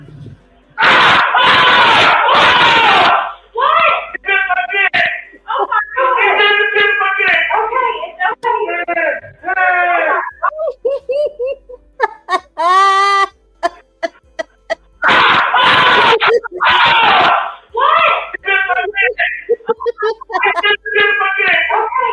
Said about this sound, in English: you hear all that man was screaming?